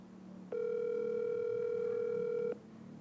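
A telephone dial tone heard while a call is being connected, one steady electronic tone lasting about two seconds, clear and alone over a quiet background.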